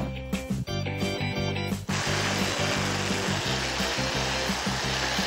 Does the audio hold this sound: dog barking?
no